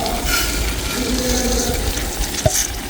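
Water is poured into a hot cooking pot of khichuri with rice and lentils, a steady close rushing splash lasting the whole moment with a faint clink near the end, and no voices.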